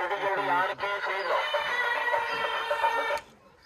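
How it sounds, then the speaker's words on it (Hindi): Hens and roosters cluck and crow together at a bird market, with a dense, warbling chorus of fowl calls close by that cuts off abruptly near the end. "मुर्गियां मुर्गे आ गए ले लो आके"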